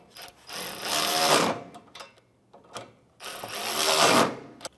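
A ratchet works 10 mm nuts on car A/C condenser lines on a 2011-2016 Hyundai Elantra, two extended bursts of rapid clicking separated by short taps and handling noises, close up and without speech.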